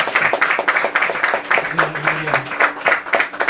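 Church congregation clapping during a worship service, a dense run of claps that continues steadily throughout, with a faint sustained tone running underneath.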